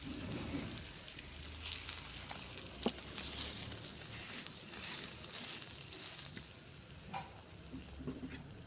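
Egg-coated paratha fries in oil in a pan, giving a faint, steady sizzle scattered with small pops and crackles. No one speaks.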